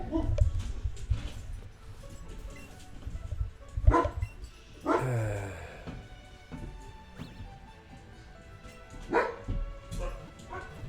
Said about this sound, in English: The dogs are going crazy outside.